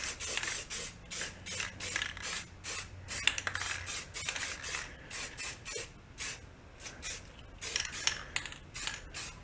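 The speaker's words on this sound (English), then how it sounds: "let's go hit it with some rattle can Rust-Oleum" A Rust-Oleum rattle can sprays a yard-sale tiller part in repeated short bursts of hissing spray, close and steady, with brief gaps between passes.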